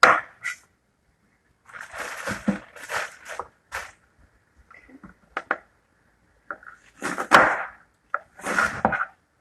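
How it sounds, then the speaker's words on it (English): A knife cuts through a head of cabbage along its lines into long pieces, giving crisp crunching strokes in short irregular bursts separated by pauses, close-up, with no talking. "I like to cut cabbage along the lines, make it kind of like long pieces."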